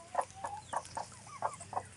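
Hens in a family backyard chicken coop cluck in a steady run of short, moderately close calls, about six in two seconds, over a faint hum.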